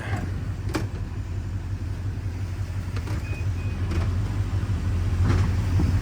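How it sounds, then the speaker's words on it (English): A Silverado Duramax 6.6 4x4 diesel pickup idles and pulls out from under a trailer, its engine making a steady low rumble that swells slightly near the end, with faint clicks and knocks over it. "Throw it in gear and just drive out from under it."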